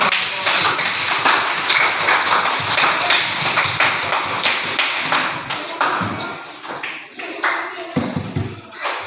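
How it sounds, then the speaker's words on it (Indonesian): Children in a classroom clap their hands, a clustered, uneven burst of claps that thins into scattered, separate taps and thuds toward the end. "Beri tepuk tangan untuk"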